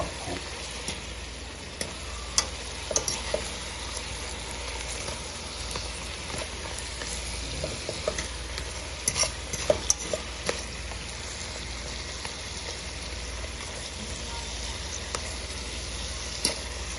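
A lobster tail fries in sauce in a pan, giving a steady, even sizzle with scattered small pops and crackles that runs unbroken throughout at moderate volume, with no talk.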